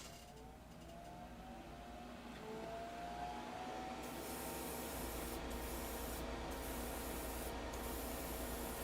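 An aerosol spray can priming a plastic part of a Master Grade model robot kit, giving a steady, continuous hiss that runs throughout with slight shifts in intensity, close to the listener and with no talking.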